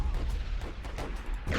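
Artillery fires in the Warfare Legacy Collection war game, a dense run of booming shots and rumbling blasts packed close together, rolling on without a break.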